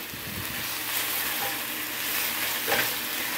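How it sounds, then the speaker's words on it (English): Minced pork seasoned with onion browns in a pan on a minimalist van stove, giving a continuous close sizzle with a few soft stirring scrapes, and no voices. "browning up the meat"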